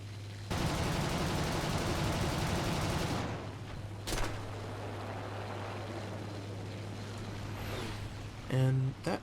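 MG151 cannons fire in video game air combat, a loud sustained rattling burst lasting a few seconds over a steady engine drone, followed by a single sharp shot and quieter engine noise.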